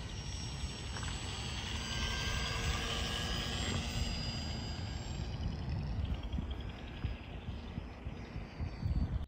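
An R/C gyrocopter flies steadily overhead, its small motor and spinning rotor giving a continuous buzzing drone with a high whine that stays fairly loud, then wavers and surges near the end.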